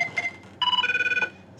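A short electronic phone ringtone like the one from the TV series 24 chirps briefly, then a rapid warbling trill follows, loud and close, with no speech.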